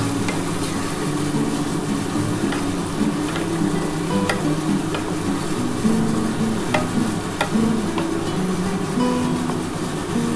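Duck egg curry masala with thinly sliced onion, ginger and garlic is sautéed and stirred in a pan with a little water, giving a steady sizzle and scraping spatula strokes, continuous and close with no talking.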